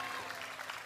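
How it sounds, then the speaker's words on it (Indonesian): Audience applause at a junior Islamic preaching talent competition on Indonesian television, a steady dense clapping wash filling the whole brief moment. "sekali lagi tepuk tangannya meriah untuk Ozan"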